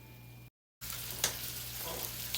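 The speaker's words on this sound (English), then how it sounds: "So I'm cooking the bacon first in both pans." Bacon fries in lard in two pans, giving a faint, steady sizzle with soft crackles; the sound cuts out briefly near the start and then resumes.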